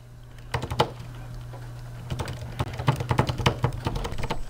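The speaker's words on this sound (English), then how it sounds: "Typing away" Students tap rapidly on a computer keyboard, the clicks irregular and close over a steady low electrical hum, with no talk.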